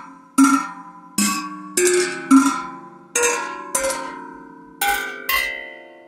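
Muted drumstick strikes on the Tangent Drum virtual instrument, about eight separate metallic hits spaced roughly half a second to a second apart, each with a sharp attack and a short ringing decay, heard alone.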